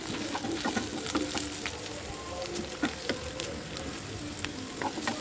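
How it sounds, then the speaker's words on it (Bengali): Onions, green chillies and garlic cloves fry in a pan with a quiet, steady crackling sizzle dotted with small pops and light stirring clicks. "পেঁয়াজগুলো লাল লাল করে একটু নাড়াচাড়া করে তার মধ্যে আমি লঙ্কা আর রসুনের কোয়াগুলো দিয়ে দিয়েছি।"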